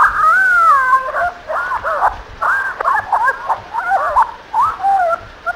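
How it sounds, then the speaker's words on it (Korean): A dog in the PC horror game White Day barks, howls and whimpers in a string of short, yelping bursts, close and fairly loud against a quiet background. "이건 뭔 개짖는 소리야?"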